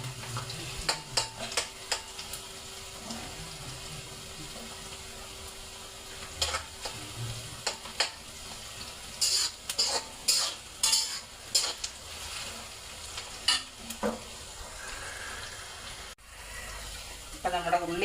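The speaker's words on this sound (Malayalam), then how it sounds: "അപ്പോൾ ഉള്ളിയെല്ലാം ഒന്ന് മൂക്കട്ടെ" Onions fry in a pan with a steady sizzle while a utensil stirs and scrapes in irregular bursts of clinks. The sound is close and moderately quiet, with a faint voice now and then.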